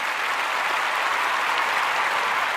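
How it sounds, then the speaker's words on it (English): Audience applause, a broad and steady wash of many hands clapping at constant loudness, sustained without pause and with no voices on top. "Give yourselves a round of applause for tuning in."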